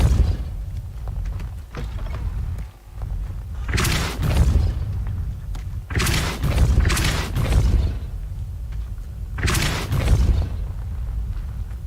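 Depulso spell impacts in Hogwarts Legacy land as several heavy booming bursts, some doubled, over a continuous rumbling game background.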